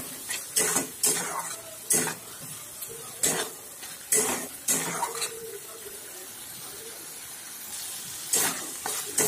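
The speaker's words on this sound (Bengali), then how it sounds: "এবার আঁচটি মিডিয়াম করে আর 1 মিনিট মতো পোস্তটি ভেজে নেব।" Poppy seed paste (posto) frying over medium heat in a pan for aloo posto: repeated bursts of scraping and sizzling as it is stirred, with brief quieter gaps between strokes.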